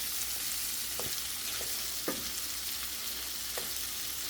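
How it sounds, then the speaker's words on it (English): Food browning in a pan over medium heat during a shrimp boil recipe, a steady, even sizzle with a few soft utensil taps, close and alone. "we're just going to cook this for a few minutes, about 5 minutes maybe, till it gets brown on all sides"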